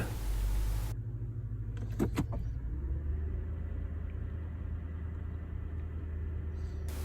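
Toyota Land Cruiser 200 Series engine idling steadily with a low, even rumble, faint and continuous, while the transmission shift is moved between park and drive; a few brief clicks sound near the start.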